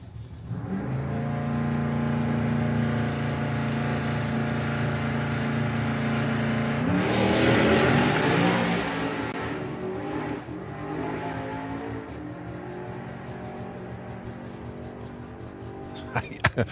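A Volkswagen Passat drag car at Santa Pod holds a steady engine drone, then roars louder as it launches down the strip, fading afterward under a commentator's voice.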